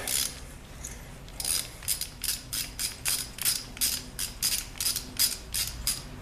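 A hand ratchet clicks in quick repeated bursts while loosening the spark plugs on a 1972 Honda CB450 barn-find motorcycle, about a dozen sharp, close metallic strokes in steady rhythm.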